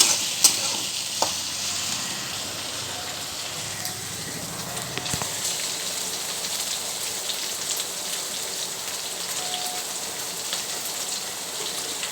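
Okra stirred and roasting in a pan, a soft continuous sizzle with faint scraping and occasional small clicks, steady and close throughout.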